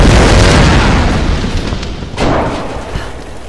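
A boom and explosion from a shot in the video game Tomb Raider, one loud rumbling blast at the start that decays, then a second smaller burst swelling about two seconds in.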